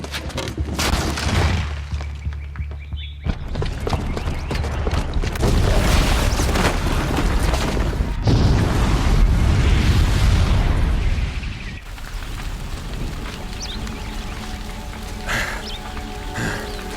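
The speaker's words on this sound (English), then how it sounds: "the booby trap on the bomb downstairs is gonna get set off" A bomb goes off in Horizon Zero Dawn, a heavy booming blast followed by rumbling debris and sustained roaring turbulence, loud and close, fading into quieter ambient game sound.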